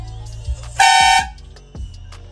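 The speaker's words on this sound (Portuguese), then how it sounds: "Buzina." A loud, sustained horn blast from a small Ford truck lasting under half a second, with engine rumble and a couple of low thumps before and after.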